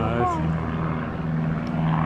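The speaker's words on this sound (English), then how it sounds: "there's two planes in the sky, you can see them" At New Bedford Airport, a small propeller airplane drones overhead with a steady, moderately loud hum that continues throughout, while people talk nearby.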